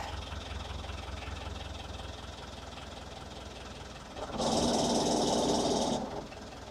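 A cold-started engine idles with a steady low rumble, then is throttled up for about two seconds into a louder, brighter roar before settling back to idle.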